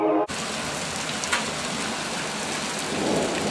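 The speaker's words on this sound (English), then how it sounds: "so now comes the rain. A severe thunderstorm." A severe thunderstorm: steady heavy rain pours loudly throughout, with thunder rumbling and building low beneath it, the sound starting abruptly after a brief quiet moment.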